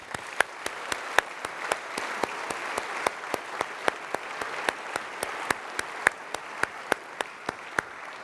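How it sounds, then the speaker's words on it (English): Applause for supporters, sponsors and contributors at an event, heard as a sparse run of crisp claps. They are spaced evenly in a steady rhythm and sound fairly faint over a quiet room. "Please join me now in giving a warm round of applause to all of our generous supporters, sponsors, and contributors."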